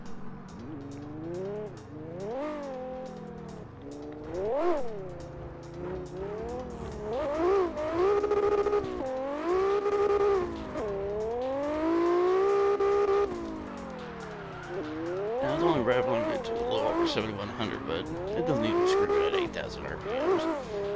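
Car engine revving and drifting in CarX Drift Racing Online, with the Atlas GT drift build: a loud, continuous engine whine rising and falling in pitch as the throttle works, with tire noise and a voice underneath.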